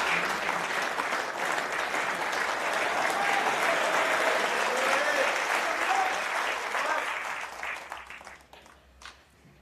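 Sustained applause from a snooker crowd in Leicester at a World Grand Prix semi-final, loud and dense clapping filling the hall for several seconds before thinning out and fading near the end.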